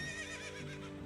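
A horse neighs in the video game Zelda: Ocarina of Time, a short steady whinny with rich harmonics, played alone at moderate level with no talking.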